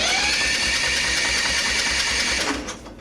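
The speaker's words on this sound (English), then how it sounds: "The engine should be able to spin over pretty easily now with no compression" The engine of a Craftsman ZTS7500 zero-turn mower cranks over with its spark plug removed and no compression, an even, rapid whirring of the starter that runs for a few seconds and then winds down.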